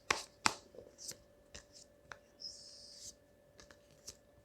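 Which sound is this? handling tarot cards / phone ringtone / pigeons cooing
handling tarot cards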